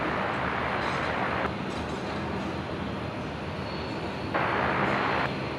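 A Qantas airliner on its takeoff roll from Brisbane runway 01 right produces a broad, sustained engine roar, fairly distant and steady, with a brief swell near the end and no talking.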